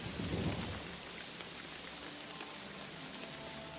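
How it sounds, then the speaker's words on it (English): Steady rain falls in the medieval open-world game Kingdom Come: Deliverance 2, a dense even hiss with a faint low rumble early on, alone without voices. "And now it's raining."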